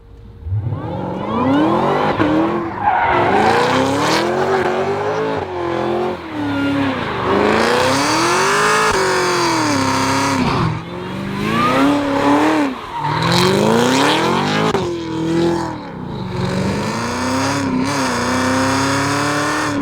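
A 1000 HP Cadillac CT5-V Blackwing engine revs hard and wails up and down in pitch while tires squeal and skid continuously doing donuts, loud and close, with repeated surges of acceleration.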